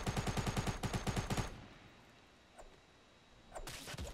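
Automatic gunfire in Fortnite Battle Royale rattles out in a fast, evenly spaced burst for about a second and a half, goes quiet, then breaks out again with a shorter volley near the end.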